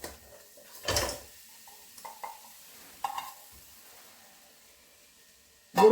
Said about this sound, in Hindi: तो अब हम गुड़ को कढ़ाई में डाल देंगे।